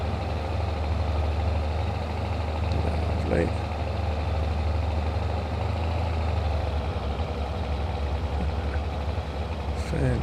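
A tractor engine drones steadily at close range while crossing an undulating field, a low continuous rumble running throughout with someone talking over it now and then.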